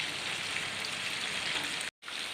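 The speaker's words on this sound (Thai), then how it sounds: "ตอนนี้ฝนเริ่มตกแรงขึ้นแล้วเพื่อน" Steady rain falling outside a house, a dense, even hiss of drops that continues throughout and cuts out briefly near the end before resuming.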